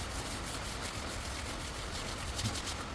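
Steady, continuous scratchy rubbing of 100-grit sandpaper on a Honda Giorno front cover fairing in quick back-and-forth strokes, close and fairly loud, with no talking.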